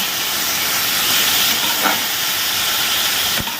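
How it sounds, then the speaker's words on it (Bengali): A loud, even hiss of vegetables frying in a hot pan, with a faint tap near the end and no talking. "ফোড়ন দিয়ে খালি নুন হলুদ দিয়ে ভাজা আর কিচ্ছু করবো না"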